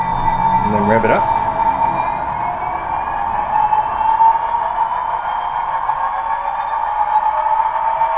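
SD70MAC model locomotive engine revving on an ESU sound decoder, a sustained diesel drone with rising whine and a brief clanking burst near the start, steady and loud throughout.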